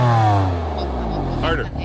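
A 425-horsepower BMW M3/M4 engine revs loudly up close, its pitch sweeping down and then holding steady. A person speaks over the engine toward the end.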